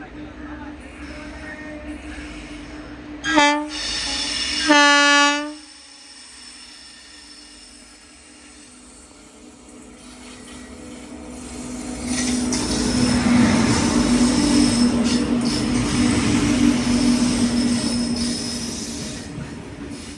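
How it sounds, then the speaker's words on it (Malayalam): Goods train passing on the opposite track, a brief horn-like tone and squealing wheels early on, then a long rising rumble and clatter of wagons heard from a moving sleeper-class coach. "ഗുഡ്സ് ട്രെയിൻ വരുന്നുണ്ട്."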